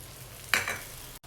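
Ragi set dosa batter hitting a hot, lightly oiled pan with a sudden sizzling burst that fades within a second, close up and otherwise quiet.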